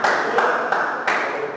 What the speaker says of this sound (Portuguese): Bate palmas e dá glórias a Deus.